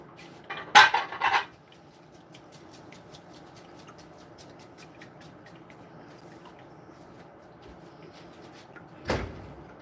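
Metal baking pans pulled out of a home oven, with a cluster of clattering, scraping metal clanks near the start, quiet kitchen room tone, then one more sharp clank near the end.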